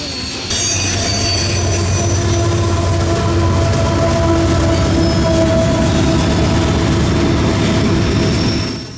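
A long CSX mixed freight on the River Line, with a CM44 rebuild as mid-train DPU and trash cars, rolls past loud and close, wheels squealing over a steady rumble and rail clatter throughout.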